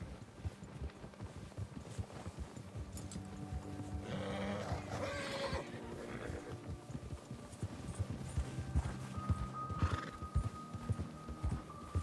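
Horses in Red Dead Redemption 2 clip-clop at a steady gait with a couple of whinnies over it, moderately quiet and without talk.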